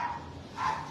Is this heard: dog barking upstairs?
yes